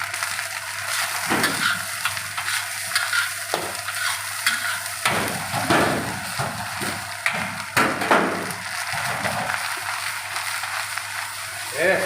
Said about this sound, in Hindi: बीफ डाला जो पहले से हमने फ्राई करके रखा है।